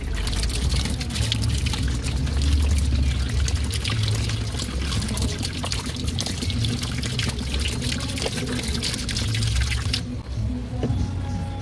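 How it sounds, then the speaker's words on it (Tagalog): Water poured into an Astron single-tub washing machine, a steady continuous rush of liquid filling the tub close by, running throughout before easing near the end. "Ayan, lalagyan natin ng tubig."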